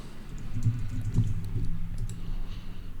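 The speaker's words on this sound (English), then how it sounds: "I would type in goalkeeper." Soft, quick keystrokes clatter on a computer keyboard as a word is typed, light irregular clicks over a low room hum.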